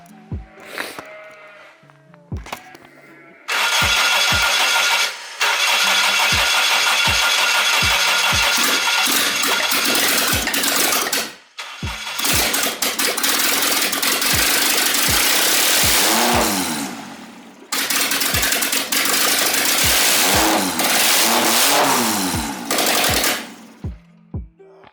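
A Honda K20 engine swapped into a Datsun, running with no intake manifold, cranks and catches, then roars loud and rough in long bursts separated by brief dips, held on the throttle cable, with sharp popping transients throughout.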